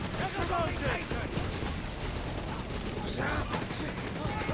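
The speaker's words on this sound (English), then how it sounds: "Humber there blasting with this auto cannon." A Humber armoured car's autocannon fires in the World War II strategy game Company of Heroes 3, a dense run of sharp, rapid bursts in quick succession amid battle noise, with commentary talk underneath.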